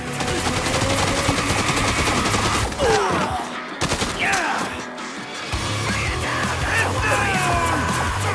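Sustained bursts of M60 machine gun fire in Dead Rising 2: Off the Record, loud rapid automatic shots mixed with crashes, explosions and yelling, briefly breaking off midway before firing resumes.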